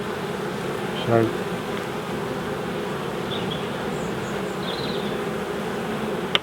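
Honeybees hum steadily around an open beehive on a calm, windless day, a continuous mid-level drone with occasional nearer passes and a brief louder moment, while a voice says a single word.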